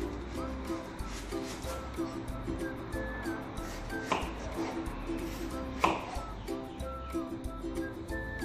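Brown onion being chopped on a board for slow-cooker ossobuco, a steady run of knife taps at close range over background kitchen noise.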